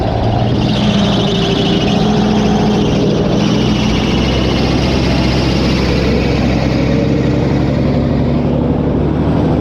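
An old abandoned dump truck's engine runs after its first start, a loud, close, steady diesel rumble with a constant droning hum throughout.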